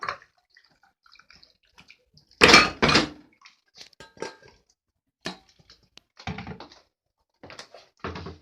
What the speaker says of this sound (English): I'm just going to strain the potatoes, which are now boiled soft